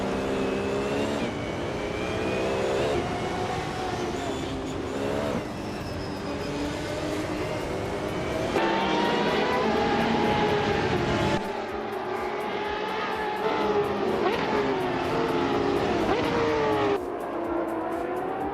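Race cars in a video game roar continuously, engine pitches rising and falling as cars shift gears and pass, loud and unbroken throughout.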